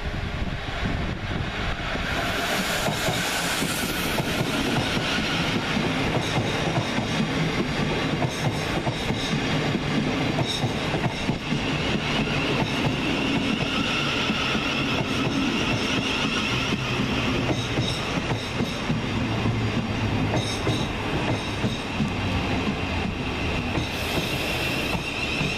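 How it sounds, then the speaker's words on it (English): A pair of South Western Railway Class 707 electric units, 707021 and 707019, roll through Twickenham station on a Waterloo to Windsor service, a loud sustained rumble of wheels and motors with occasional high squeals close by. "More 707 action now in the form of 707021 and 707019 with the 1452 Southwestern Railway service from London Waterloo to Windsor"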